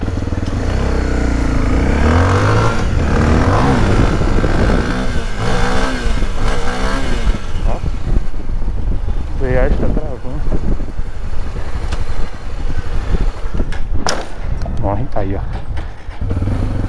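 A Honda XRE motorcycle engine revs hard and repeatedly during wheelies, with loud rising and falling throttle sweeps close by and voices talking over parts of it.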